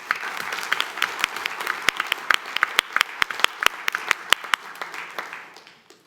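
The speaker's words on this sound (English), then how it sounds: "So if we could give them all a round of applause." A small audience at an academic recognition ceremony claps for student achievers, with sharp individual hand claps standing out over a steady patter that fades toward the end.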